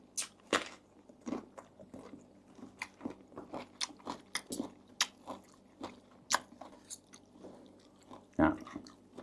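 Close crunchy bites and chewing of spicy Thai canned fish salad, with irregular crisp crackles and soft mouth sounds spread across the clip, quiet and intimate with no talking.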